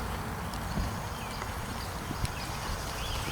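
A horse's hooves clip-clop steadily through a riding lesson, the rider working him around to the right on the rein, with soft, fairly even footfalls and occasional sharper hoof strikes over a constant background hiss.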